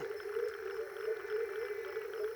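Several frog species call at once in the Australian desert, a steady, pulsing chorus of croaks with one bleating wah-wah-wah voice, heard at moderate distance with no talk.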